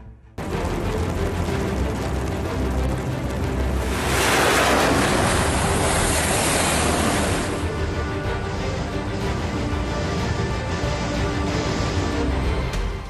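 Warships plough through the waves of the Bay of Bengal during a naval exercise. Seawater rushes and surges loudly and continuously, wind buffets the microphone, and the roar swells in the middle.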